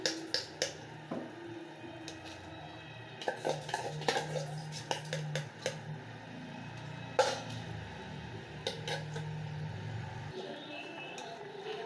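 A spoon stirs rice into a pot of boiling tomato rice, giving scattered metallic clinks and scrapes against the pot over a low steady simmer, close up with no talking.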